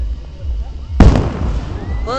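A gold crown firework at the Magic Springs show in Hot Springs, Arkansas bursts in one loud close boom that trails into crackling, with crowd voices and a whistle-like rising tone around it.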